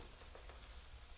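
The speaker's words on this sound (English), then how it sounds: "It is sizzling." Steady, dense sizzling of quesadilla frying in a pan, a continuous crackling hiss with no talking.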